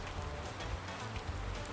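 Steady rain falls in Farming Simulator 19, a dense, even hiss of drops on surfaces with a low rumble underneath, continuous and fairly faint with no talk.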